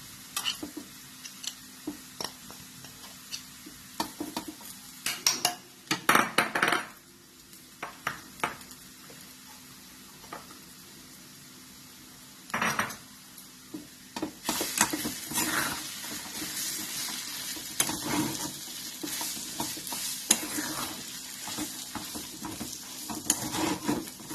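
Besan and poha mixture being stirred in a pan for aloo poha vade, intermittent close scraping and clattering strokes of a spoon against the pan over a faint sizzle, growing busier toward the end, no talk.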